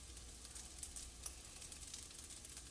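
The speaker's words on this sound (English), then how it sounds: "So we're frying the rice." Rice stir-frying in a pan gives a steady, close sizzle, a continuous hiss with small crackling pops scattered through it and no voices.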